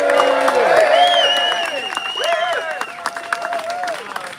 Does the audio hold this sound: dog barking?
no